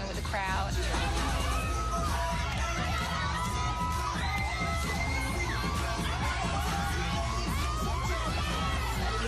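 A crowd at a dance show cheers and shouts without a break, with whoops, children's yells and babbling voices mixed into a dense, loud roar.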